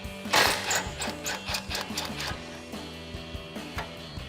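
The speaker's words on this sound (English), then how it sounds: "Grab a 13 socket. We're going to loosen up the clamp holding on our factory muffler to the over axle pipe." 13 mm socket ratchet loosening the factory muffler clamp on a 2010-2014 Mustang GT 5.0L axle-back exhaust, a rapid series of close, rhythmic metallic clicks that slows toward the end.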